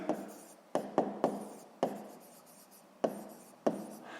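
A pen or chalk taps and scratches out a sixth-grade math solution close by, with about seven sharp strokes at irregular intervals, each decaying quickly into a quiet background.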